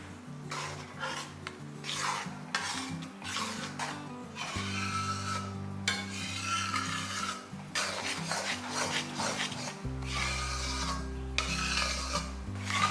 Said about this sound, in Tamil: இப்போ கலந்து வச்சுருக்க மாவை எடுத்து இதில் ஊற்றிடலாம்.